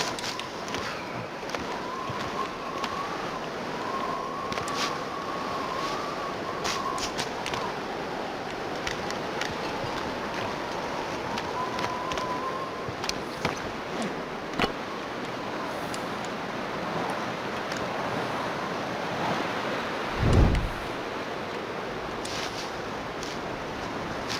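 Steady wind blows across an outdoor landscape in the survival game The Long Dark, a continuous broadband rush with a faint whistling tone, moderately loud and unbroken, with a brief low thump near the end.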